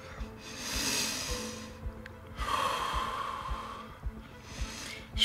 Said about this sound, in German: es ist schwerer als ich dachte, normal zu atmen